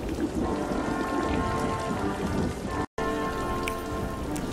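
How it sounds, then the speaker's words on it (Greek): Heavy rain falls steadily and loudly in a dense, continuous downpour, with a brief gap of silence near the middle before the rain resumes just as strong. "στο δρόμο άρχισε να πέφτει δυνατή βροχή"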